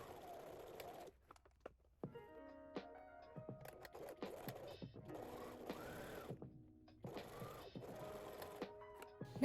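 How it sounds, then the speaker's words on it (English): Sewing machine stitching down the sides of lining fabric for a hobo hot dog bag, a close rapid whirring hum that starts and stops in bursts with short quiet gaps. "We're going to close the lining first, so sew down all three sides"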